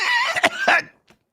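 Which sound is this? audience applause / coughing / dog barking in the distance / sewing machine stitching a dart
coughing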